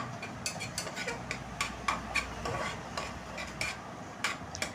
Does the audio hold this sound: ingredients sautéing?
yes